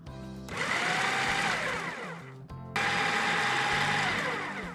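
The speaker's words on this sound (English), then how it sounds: "The oats and walnut mixture has been ground so nicely and coarsely, hasn't it?" A kitchen blender grinds an oats and walnut mixture in two loud whirring bursts separated by a brief pause, the motor steady and close with no speech.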